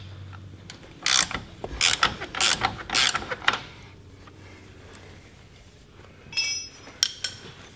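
Wrench work on the rear axle of a Ski-Doo Gen 5 snowmobile: a series of close, sharp ratcheting clicks and metal clinks in bursts, then a brief jingle of tools, with quiet pauses between.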